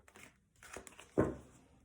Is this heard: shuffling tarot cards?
yes